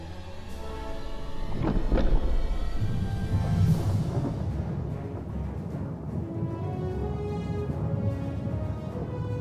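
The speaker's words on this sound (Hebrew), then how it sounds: "הברק הבזיק ורעם רעם" Thunderstorm sound effect in which a deep rumbling roll of thunder builds and crackles, then settles into a long sustained rumble with rain hiss underneath, loud and continuous throughout.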